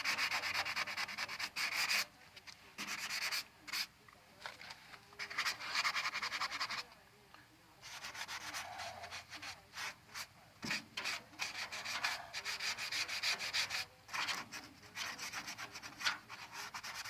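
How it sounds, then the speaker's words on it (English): A hand sanding block scrubbing a 1977 GMC truck, close rasping strokes in bursts with brief pauses, loud and alone without talk. "It's one of those sanding blocks you can get at Walmart."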